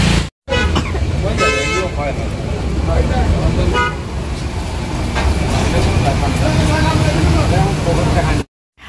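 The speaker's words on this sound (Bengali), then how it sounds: "তো এটা হচ্ছে বহরমপুর বাস স্টেশন।" Berhampore bus station, a busy, loud mix of bus engines, traffic rumble and repeated horn toots, with people talking throughout.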